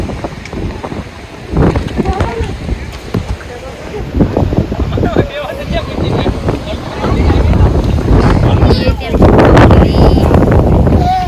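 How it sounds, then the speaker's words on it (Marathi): Strong wind buffets the microphone at an echo point viewpoint on a class trip, a loud continuous roar that swells toward the end while people talk over it. "खतरनाक हवा सुटली"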